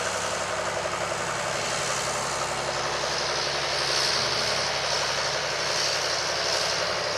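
On a quiet country road, a neighbor's vehicle rumbles past as a steady broadband engine and tire roar that swells slightly midway, moderately loud and continuous with no voices.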